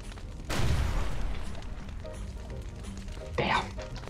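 A grenade explodes in the gory shooter game Guns Gore & Cannoli: a sudden loud boom rolls on into a sustained rumble, followed by a second, sharper blast a few seconds later.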